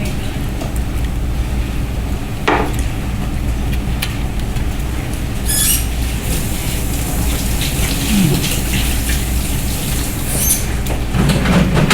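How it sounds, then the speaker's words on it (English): Water runs steadily from a kitchen tap as fingers are rinsed under it, a continuous splashing hiss with a few sharper clinks and knocks, and no talk. "Let me rinse off my fingers."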